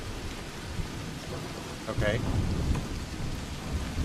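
Steady rain hisses in the video game Vein while a low thunder rumble swells briefly midway; a voice speaks a single short word over the storm.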